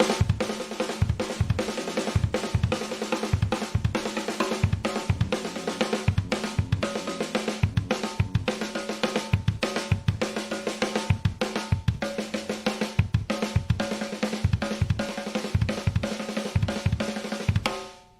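A drum kit plays a steady, dense run of rapid snare strokes interlocked with kick drum hits, repeating continuously for about eighteen seconds before cutting off, close and clear with no talking.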